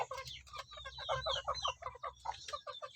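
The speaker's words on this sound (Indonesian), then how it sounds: "Inilah kandang panggung dan ayam saya yang ada di dalam kandang panggung ini." KUB chickens in a raised wooden coop cluck and chatter continuously, several birds overlapping in busy, close, moderately loud calls with a low background hum.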